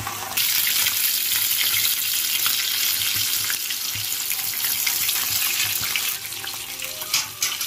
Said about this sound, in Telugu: ఇలా బాగా ఫ్రై అయ్యేలా ముక్కల్ని తిప్పుకుంటూ ఉండాలి